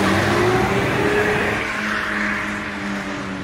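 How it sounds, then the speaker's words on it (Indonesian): A third-generation Honda CR-V with a 2000 cc engine and automatic transmission drives along, its engine droning loud and close inside the cabin, with the pitch gliding as it accelerates over steady road and tire noise. "Kebetulan mobil yang kita review ini varian yang 2000 cc yang automatic."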